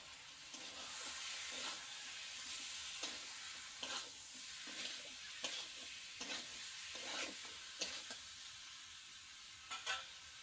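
Pork meat sizzles and fries in a hot pan while being stirred, a steady hiss punctuated by regular scraping strokes and soft clatter, close and fairly quiet.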